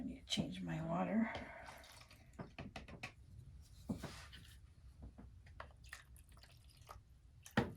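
Water in a container for rinsing acrylic paint brushes being emptied and refilled, heard as close splashing and pouring followed by scattered drips and trickles, with some quiet voice in the background.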